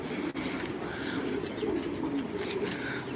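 Pigeons coo steadily inside a racing-pigeon loft in Osmaniye, soft overlapping throaty calls filling the space at close range with no talking.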